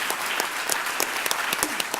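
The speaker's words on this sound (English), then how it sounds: "one more round of applause for all our partners" Audience applause at an Aspen Institute spring convening for the Opportunity Youth Incentive Fund, loud, close and sustained clapping from many hands with sharp individual claps standing out.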